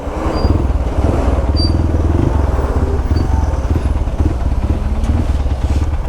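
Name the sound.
vehicles driving on rough terrain using half clutch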